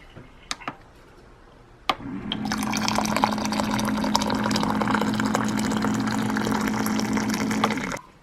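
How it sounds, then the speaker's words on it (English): A couple of sharp clicks, then water pours steadily from a dispenser into a container for several seconds with a constant gurgling hum before stopping. "That's the new water dispenser we got not too long ago"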